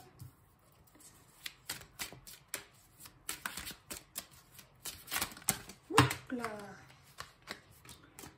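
Rapid crisp shuffling of oracle cards, a series of papery riffles and taps, close up, with someone briefly speaking near the end.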